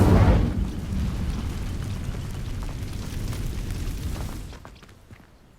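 An Incendio fire spell in Hogwarts Legacy sets dry vines alight with a loud whooshing burst, followed by a steady crackling roar of flames that fades out after about four seconds.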